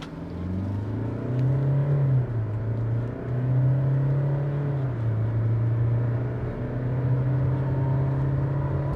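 A 2023 Kia Seltos diesel SUV accelerating hard from a standstill in a 0-100 test, with a steady droning engine note that climbs in pitch through the gears, close up and continuous.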